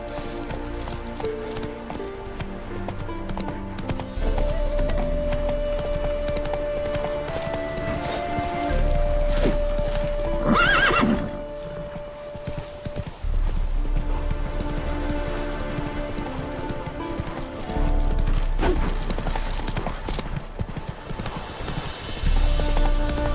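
Roach the horse gallops in The Witcher 3 with steady rhythmic hoofbeats clip-clopping over a low rumbling game soundscape. A faint whinny-like cry rises briefly midway.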